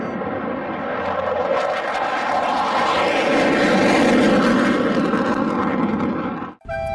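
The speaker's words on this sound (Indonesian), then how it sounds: "Ini adalah pesawat tempur." A toy fighter plane gives off a loud, steady roaring jet-engine sound effect that fills the whole stretch and cuts off abruptly near the end, with a brief clicking noise after.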